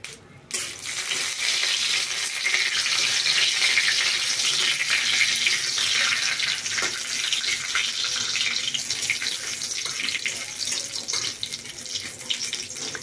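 Bay leaves sizzle in a little oil in a pan, a loud continuous hissing crackle that starts abruptly and holds steady throughout with occasional small pops, no talking.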